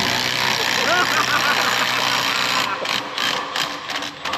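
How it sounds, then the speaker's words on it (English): A 12-volt Milwaukee 1/4-inch drive impact wrench works a bolt loose on a Cat D6R dozer. It gives a close mechanical rattle of hammering bursts that breaks up toward the end, with talk and engine-like noise underneath. "1/4 inch drive Milwaukee impact busted it loose. 12 volt to boot."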